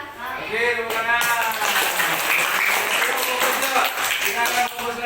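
Children in a classroom clap their hands together, a dense, close burst of clapping that follows a short stretch of voices and continues steadily, with voices still mixed faintly underneath.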